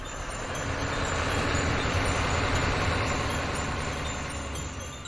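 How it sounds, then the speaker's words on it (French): A truck engine hums in a steady, continuous low rumble that stays even from start to finish, with no voices over it. "Bercés par le ronronnement du moteur du camion"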